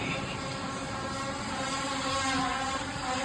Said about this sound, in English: hear in the background is my partner Travis cutting out holes in the floor for our speaker connections